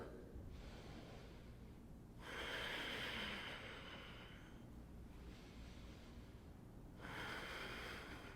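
Slow deep breathing during an aerial suspension-fitness inversion pose, with long broadband inhales and exhales alternating in a steady rhythm, close and moderately quiet.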